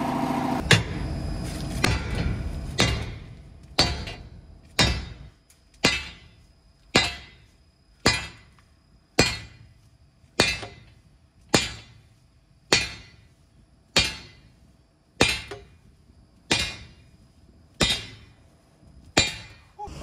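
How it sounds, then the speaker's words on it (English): Heavy sledgehammer blows strike a jammed metal auger over and over at a steady pace, each a sharp clanging impact with a short ringing decay. "I'm going to try sledgehammering it back while the ratchet strap's holding it."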